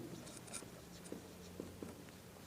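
Chalk writing on a classroom board during a physics lesson, a few soft scratchy taps and strokes, faint and fairly close under a low room hum.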